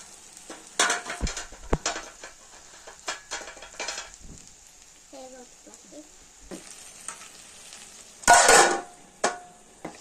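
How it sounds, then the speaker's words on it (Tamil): Okra (vendakkai) sabji being stirred as it fries in a pan, with intermittent scraping strokes of a spoon over a steady sizzle and a louder burst of stirring near the end. "இப்ப இது நல்லா வதங்கி இருக்கு. இன்னும் ஒரு 5 minutes நம்ம வேக விட்டுக்கலாம். கொஞ்சம் கிண்டிக்கலாம்."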